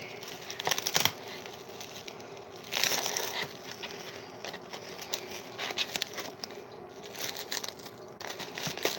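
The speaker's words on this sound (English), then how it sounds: "We're going to unwrap the mushrooms." Plastic wrapping crinkles and crackles as a mushroom package is unwrapped, with several louder bursts of rustling between quieter handling, close by and with no talk.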